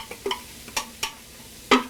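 Riced cauliflower being stirred into a hot pan sizzling with fish sauce: a few quick scraping stirs over a soft, steady fry.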